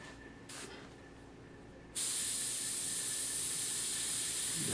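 An airbrush or spray gun sprays paint onto a figure, a brief hiss at first, then a steady continuous spray hiss starting halfway through and running to the end, fairly close.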